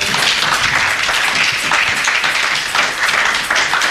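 A church congregation claps in sustained, dense applause that fills the room evenly, loud and close, with no speech breaking through.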